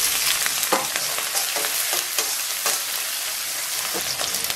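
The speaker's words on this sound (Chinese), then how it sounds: "咱给锅里边稍微来点油，咱们把切好的葱姜蒜下到锅中" Chopped scallion, ginger and garlic hit hot oil in a wok, a steady loud sizzle and crackle with scattered sharp spits and pops throughout, no voices.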